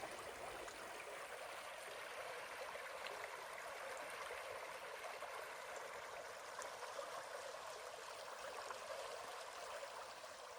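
A woodland stream flows steadily and faintly throughout, a constant, even rush of water with no other sounds standing out.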